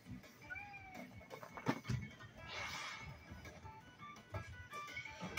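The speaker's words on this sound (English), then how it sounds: "That was our cat Alvis" A pet cat meows several times in a quiet room, short rising cries near the start, followed by a softer drawn-out call and faint background shuffles.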